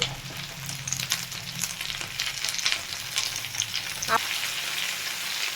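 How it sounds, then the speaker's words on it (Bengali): Chopped onion and tomato frying in oil while being stirred in a pan, a constant close sizzle with scattered scraping and stirring noises and one sharp tap near the end. "টমেটো আর পেঁয়াজ দিয়ে এবার একটু নাড়াচাড়া করে দেব।"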